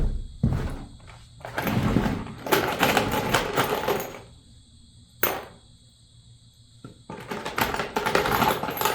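Screws driven into framing while building loft dormers, with a cordless driver whirring in several bursts of a second or two and short pauses between, plus knocks and clatter, close and fairly loud.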